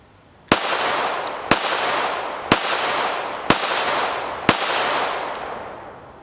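Five evenly spaced gunshots from a Springfield Armory Echelon 4.0C compensated pistol, each a sharp loud crack roughly a second apart followed by a reverberant decay, with no voices over them.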